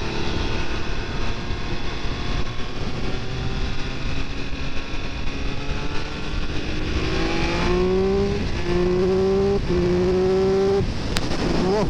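A 2022 Triumph Speed Triple 1200 RR motorcycle with quick shifter and blipper roars steadily while being ridden, then revs up through several quick gear changes, loud and close with no talking.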